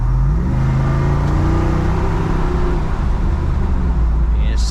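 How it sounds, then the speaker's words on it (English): A Jeep 392 V8 dual-mode exhaust rumbles loudly and steadily, its pitch rising and falling as the motor revs, with a low drone throughout. "let these pipes do all the talking"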